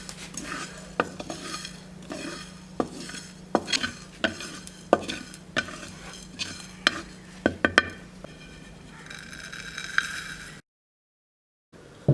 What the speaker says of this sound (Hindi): बादियान, लौंग, काली मिर्च, ये भी इसी में डालेंगे। थोड़ा सा फ्राई करेंगे इसको।